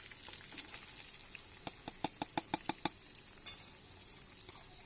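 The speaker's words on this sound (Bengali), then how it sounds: "এরপর পেঁয়াজ দিয়ে দিচ্ছি।" Onions frying in a pan with a steady sizzle, then a quick run of sharp, evenly spaced scrapes and clacks as they are stirred, close and fairly loud with no talk.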